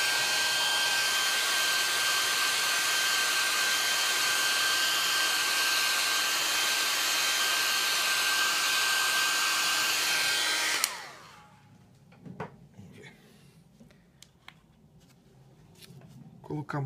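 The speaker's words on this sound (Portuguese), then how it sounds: "Às vezes eu deixo bem perto assim, o secador mesmo do papel." A hair dryer held close to paper, drying dense gouache paint, blows in a loud, steady roar for about eleven seconds, then cuts off abruptly, leaving faint rustling and small handling noises.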